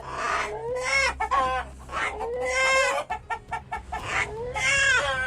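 A farm rooster taken from the coop repeatedly crows in loud, close bursts, about four drawn-out calls separated by short clucking gaps, its cry bending into something like a human word.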